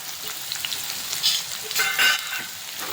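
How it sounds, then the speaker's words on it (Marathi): Finely chopped onion sizzles and fries in hot oil with bloomed cumin seeds for a paneer makhana curry, a close, continuous crackle with brief louder stirring surges. "त्यामध्ये एक कांदा बारीक चिरून घालायचा"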